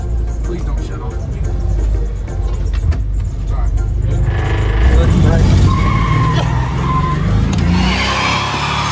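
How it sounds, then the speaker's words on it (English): A 4x4 van attempts a tire burnout, its engine roaring steadily and loud throughout, with rising tire squeal and a higher revving whine toward the end while people talk over it. "See if it'll do a burnout."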